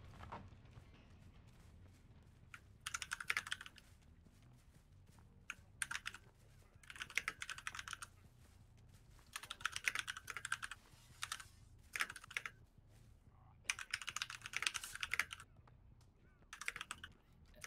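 Loud typing on a computer keyboard rattles in bursts of rapid keystrokes separated by short pauses, close and prominent over low background noise during a Dead by Daylight session.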